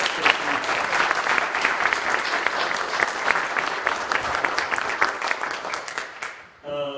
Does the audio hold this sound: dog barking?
no